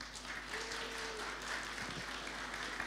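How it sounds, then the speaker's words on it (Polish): An audience at a school Safer Internet Day event applauds the students, a continuous wash of many hands clapping in a large hall, steady and moderately distant. "Myślę, że zasłużyli na gromkie brawa."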